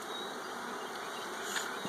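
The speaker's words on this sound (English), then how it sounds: "These bees are a little freaking out" A dense, continuous buzz of many honey bees hums close by, steady and busy with no talking.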